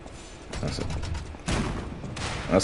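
Enemy gunfire in the video game Lies of P, a run of sharp shots and crackling bursts with a louder volley midway, close and continuous with no talk.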